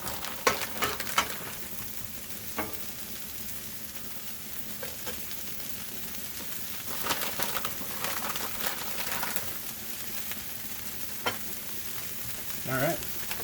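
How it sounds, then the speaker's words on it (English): Smashburger sliders and bacon sizzle on a hot Blackstone griddle over high heat, a steady soft hiss of frying with occasional scraping and light clatter, fairly quiet throughout. "Throw them back on the griddle on high heat, and we're warming the bacon up."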